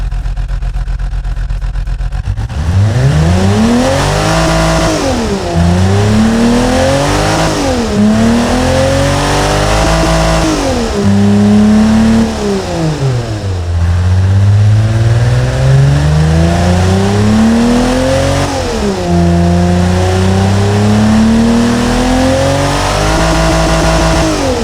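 A BMW S50B30US straight-six in the Automation car game, fitted with a tubular high-flow straight-through exhaust, starts up and then revs repeatedly, loud and close, with pitch climbing and falling in sweeping waves over a steady idle.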